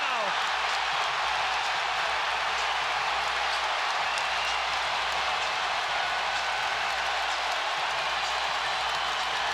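A San Antonio home crowd at an NBA basketball game against Dallas roars and cheers steadily after a Wembanyama dunk, a dense, continuous wash of noise filling the arena with no break.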